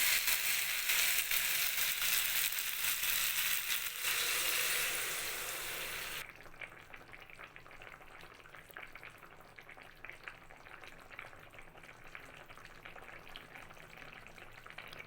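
Vegetables sizzle loudly in a pan for a vegetarian summer curry, a dense steady frying hiss, then water is poured in and the sizzle drops abruptly to a quieter, softer bubbling simmer.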